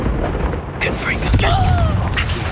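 Confringo fire spell cast in the Hogwarts Legacy game: a loud fiery burst and boom with crackling and whooshing effects and a rising whistle, over game sound.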